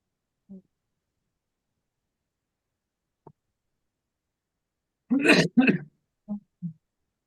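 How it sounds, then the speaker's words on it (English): During a committee meeting, a few short throat bursts, one sharp cough-like burst in the middle, separated by silence, with soft clicks before and after. "There's the cough."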